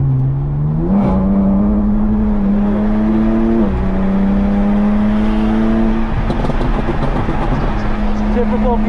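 A BMW G87 M2 accelerates on a race track, its engine note climbing steadily through gear changes, loud and close inside the cabin, with a voice talking over it.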